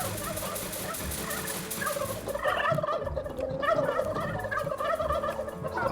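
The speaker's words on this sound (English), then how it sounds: "the gobblers are gobbling" Turkey-like gobblers in the Dungeons 3 video game gobble repeatedly in loud, overlapping bursts over a steady layer of game music and ambience, with no talking.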